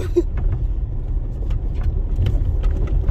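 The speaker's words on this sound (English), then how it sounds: "Paul's car literally just jumped on one of them rocks" A car bumps over rocks on a rough track on the Long Mynd in February, heard from inside a moving vehicle as a steady engine rumble with scattered knocks and thumps.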